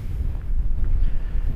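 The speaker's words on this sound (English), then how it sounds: "It's quite windy now." Strong wind gusts across the open Black Mountains in the Brecon Beacons, a steady low rumble buffeting the microphone with no other sounds.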